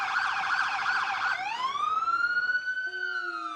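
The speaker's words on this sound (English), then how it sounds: "The sirens. Wow, that's loud." Loud emergency sirens wail at a July 4th parade in Hamilton, a rapid yelping tone sliding down into a long falling wail before steadier horn-like tones take over.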